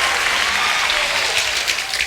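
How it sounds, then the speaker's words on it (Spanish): Loud, dense audience applause fills an evening program night, a steady wash of many hands clapping at once with no break, near and full throughout. "Un aplauso fuerte en esta noche."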